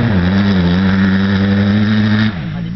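Honda CRF150 motocross bike engine held at a high, steady buzzing pitch, loud and near, then dropping sharply as the throttle eases near the end.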